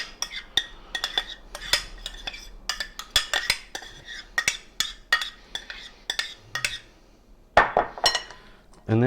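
Ceviche goes from a small bowl into a bigger one in a kitchen, with a run of sharp clinks and clatters of utensils against bowls, some louder knocks near the end, and quiet moments between.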